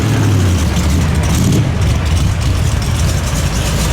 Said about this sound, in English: Now we got some V8 iron in here, an Allard.